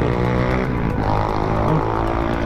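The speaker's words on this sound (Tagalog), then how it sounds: "Yung ingay ng motor." A steady, loud engine drone with low rumbling harmonics, like motorcycle traffic passing close by on EDSA in Manila, continuous throughout with no voices.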